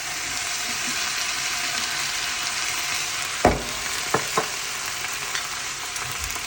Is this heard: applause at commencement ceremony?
no